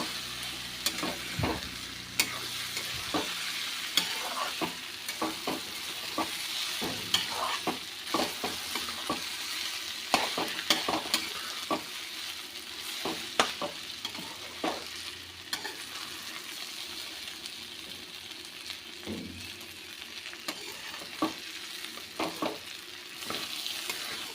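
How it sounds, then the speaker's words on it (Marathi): Soaked ration rice being stir-fried in a pan for Maharashtrian masale bhat, a continuous low sizzle broken by frequent sharp scrapes and clacks of the spatula, close and without voices. "एक दोन मिनटं आपण छानपैकी हा तांदूळ परतून घेऊया"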